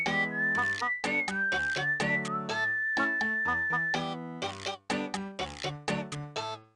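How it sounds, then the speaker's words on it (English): A melodic whistled tune from the video game Normality, a bright solo whistle carrying a bouncy rhythmic melody with short repeated phrases over plucky backing notes, playing for several seconds without talk. "Ooh, I like the whistling."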